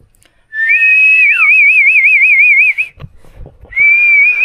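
A person whistles in a Filipino treehouse setting: a long wavering, trilling tone held for over two seconds, then a brief pause with low rustling and a second steady whistle starting near the end, loud and close.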